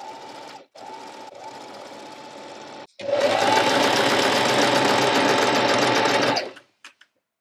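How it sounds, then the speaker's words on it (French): A sewing machine stitches a trouser seam with a 1 cm allowance, humming in short runs at first, then settling into a longer, louder, fast steady whir before stopping. "je vais venir coudre tout le long, je vais épingler et je vais venir coudre tout le long à 1 cm"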